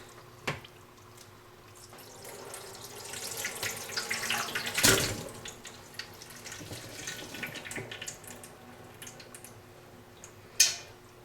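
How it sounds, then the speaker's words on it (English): Cooked ground beef drained into a plastic container: a faint trickle and pour of liquid with a brief louder gush midway, light ticks and taps from the container, no talk. "we're going to drain the ground beef"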